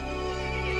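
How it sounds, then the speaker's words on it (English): A horse neighs in the video game Resident Evil Village, one loud, sustained whinny with a rich harmonic tone that fills the short moment alone, with no talking over it. "The horse grew angry and summoned the other monsters."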